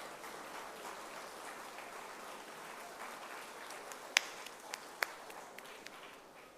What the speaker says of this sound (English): give a standing ovation and just invite us, sir, with a round of applause, please